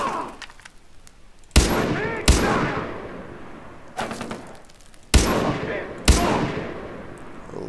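Shotgun blasts in the video game Far Cry, five loud, sharp reports spaced about a second apart, each decaying with a short echo, over quieter background game noise.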